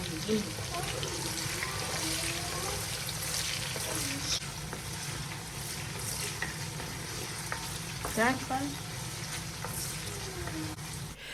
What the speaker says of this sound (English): I'm going to drop all my chopped onions and fry it until they're very nice and caramelized